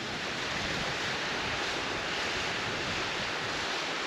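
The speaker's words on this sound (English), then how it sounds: "lovely wee waterfall" A small waterfall in the Scottish hills rushes in a steady broadband roar, close and unbroken, with wind adding to the noise.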